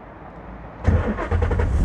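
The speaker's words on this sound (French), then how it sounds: "je vais vous filmer le démarrage, comme ça vous pourrez entendre" A Ford Mustang Boss 302 V8 cranks and fires at close range after a near-silent moment, settling into a loud, rumbling idle with a second surge partway through.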